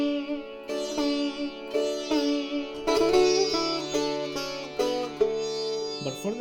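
A sitar plays a richly ornamented phrase around the note ni, with bright plucked strokes, sliding bends and sustained sympathetic-string ringing, played alone and close.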